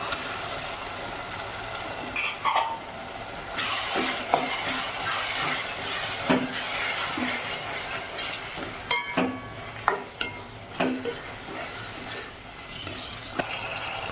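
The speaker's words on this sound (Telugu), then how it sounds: "అల్లం వెల్లుల్లి పేస్ట్ పచ్చివాసన పోయేదాకా ఫ్రై చేసుకోవాలి" Ginger garlic paste fries in a pan with a soft sizzle, broken by irregular clinks and scrapes of a spoon stirring against the metal, heard close with no voices.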